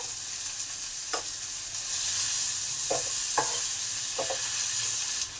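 Chopped tomatoes with salt fry in a pan under a constant close sizzle, while a spatula scrapes through them in several separate, sharp stirring strokes.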